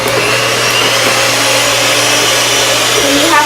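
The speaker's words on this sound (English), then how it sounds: "we have to get a electric mixer, and you have to set this on" An electric mixer set to medium beats sugar cookie dough, giving a loud, steady motor whir that runs unbroken for the whole stretch.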